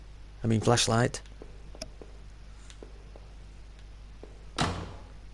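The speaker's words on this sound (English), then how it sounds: "Just heard a door slam." A door slams once with a sharp, fairly loud thud inside the horror game Home, after a short burst of voice-like sound and a few faint ticks in an otherwise quiet room.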